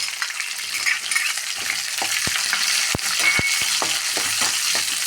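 Chopped shallots and green chilies frying in a pan, a continuous close sizzle with several sharp spoon taps and scrapes against the pan scattered through it, no one talking.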